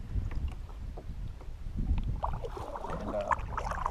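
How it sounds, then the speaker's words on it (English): Steady wind gusts across Bartlett Lake in Arizona during early-morning kayak fishing, a continuous low buffeting rumble with rustling water and hull noise close to the microphone throughout. "this wind is killing me"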